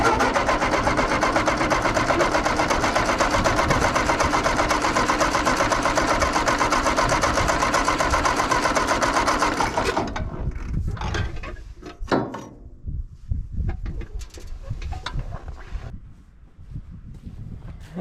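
An Allis Chalmers WD tractor engine with a stuck carburetor float cranks on the starter in a fast, steady mechanical churn for about ten seconds, then stops, leaving scattered clanks and faint noises.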